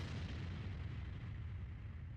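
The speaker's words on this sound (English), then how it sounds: "What the? An explosion?" A video game explosion, a low rumbling boom that stays deep and sustained for about two seconds, fairly quiet and heard alone.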